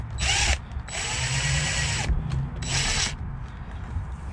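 Power drill spinning fasteners in three bursts while installing an auxiliary twin-stick shifter setup on a classic Kenworth W900 with a 13-speed transmission, loud and close with short pauses between runs.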